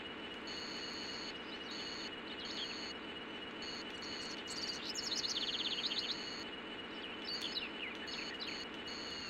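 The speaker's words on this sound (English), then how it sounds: "I'm going to go and shoo these seagulls off of the road." Seagulls in the video game Mega Man Legends call in high, repeated chirping bursts over a steady looping background of game ambience, fairly quiet throughout.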